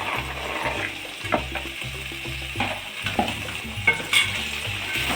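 Boiled chickpeas and sliced banana stem fry in oil while being stirred, with a continuous sizzle broken by repeated scraping strokes of a utensil against the pan, close and moderately loud.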